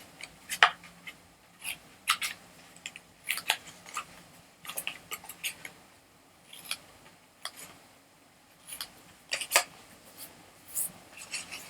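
Scissors snipping paper gift bag tabs, a steady series of short crisp cuts in irregular clusters, close and fairly quiet, with no talking.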